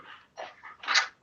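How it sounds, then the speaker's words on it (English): A dog gives a few short, faint barks in a quiet room, three separate yaps within about a second, with the last one loudest. "I'm sorry about the barking"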